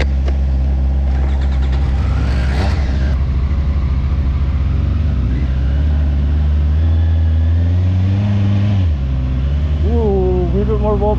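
Honda motorcycle engine and exhaust on a test ride, a steady low rumble that rises and falls with throttle, loud and close throughout, with a brief voice near the end.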